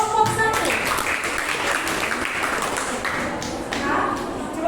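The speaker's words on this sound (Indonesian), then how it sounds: "Beri tepuk tangan buat kelompok 1" A classroom group claps for a presenting student group, uneven scattered hand claps and taps with a few louder hits, while voices and indistinct chatter continue underneath.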